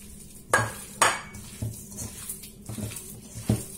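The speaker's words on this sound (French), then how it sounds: "Je mélange bien." A spoon works through a ground meat mixture with spices, parsley, coriander and thyme in a bowl, making a few sharp scraping knocks among softer wet squelches up close.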